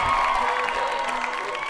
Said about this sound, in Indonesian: Oke, aplaus teman-teman.